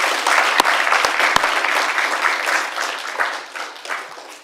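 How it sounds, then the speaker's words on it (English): A council meeting audience applauds successful applicants: dense, fairly loud group clapping with a few sharp individual claps near the start, gradually thinning as it fades. "Let's have another round of applause for all the successful applicants."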